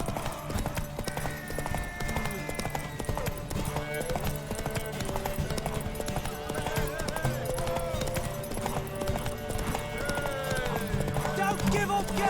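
Horse hooves clip-clopping at a run in the video game The Witcher 3: Wild Hunt, a steady rhythmic beat under game music and a voice.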